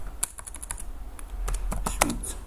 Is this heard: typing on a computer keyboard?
yes